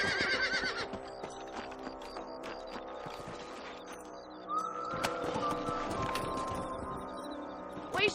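Horses in Red Dead Redemption whinny and hooves clip-clop over a busy game soundscape with music, with a sharp high neigh partway through.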